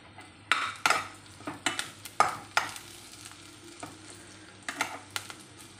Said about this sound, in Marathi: कांदा थोडासा ब्राऊन होऊ द्यायचा आहे आणि याच्यामध्ये जे बडीशोप आणि जिरे धणे आहे ते पण थोडेसे आपण भाजून घ्यायचे आहे।